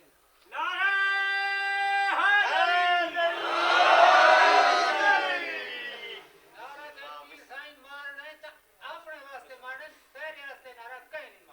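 At a Shia majlis in Mahmoodwala Khan, a single voice raises the Haidari slogan, then the congregation answers with a loud, massed chant lasting a few seconds before a lone voice resumes speaking.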